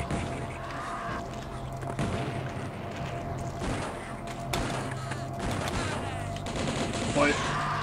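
Dense gunfire-like bursts from a Nerf launcher in a video game, loud and continuous with overlapping booms throughout.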